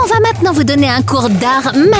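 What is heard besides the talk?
None of the usual background noises is heard.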